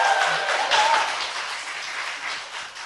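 An audience at a Korean political talk show applauds a provincial governor candidate with steady, dense clapping, moderately loud and continuous throughout.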